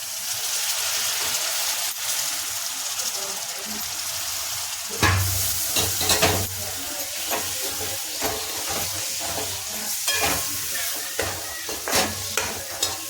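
Chicken leg pieces frying in a watery spiced masala in a home-style village curry. A soft, steady sizzle and hiss rises into louder scraping stirs and bubbling from about the middle onward, with no voices.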